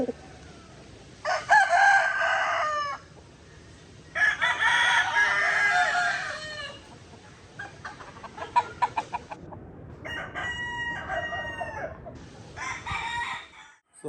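Roosters crow repeatedly, several long drawn-out calls one after another, with clucking chickens and more crowing close by.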